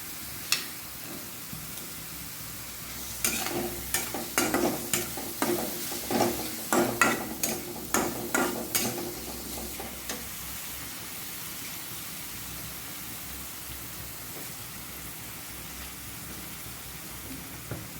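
Tomatoes go into sizzling pigeon meat curry in a pan. A steady fry hiss runs under a burst of close, rhythmic scraping stirs that fades back to sizzling.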